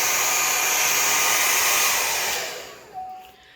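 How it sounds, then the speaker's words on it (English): A handheld blow dryer drying hair, a loud steady airy whoosh that runs evenly and then winds down and cuts off near the end, with no talk. "Take my blow dryer and blow dry it a little bit"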